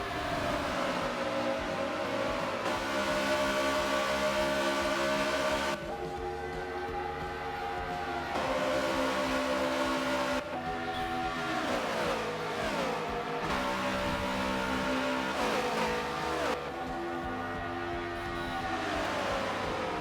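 Race cars run at Homestead Miami, with a continuous loud engine roar whose pitch rises and falls as gears shift and cars pass, sustained throughout.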